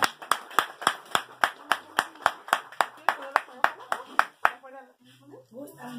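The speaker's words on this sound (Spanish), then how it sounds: "¡Regálenme fuerte, fuerte el aplauso!" Rhythmic hand clapping from a small group honoring Señora Vicenta in Jaltepec, Oaxaca, about a dozen sharp claps in steady beat, then fading into scattered voices and talk.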